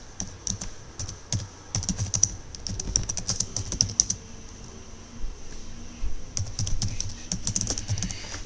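Fast clicking of typing on a computer keyboard, close and steady in bursts with a short pause midway.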